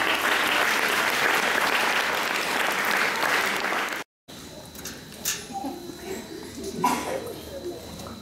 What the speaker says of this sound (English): I mention them each time, and they get rounds of applause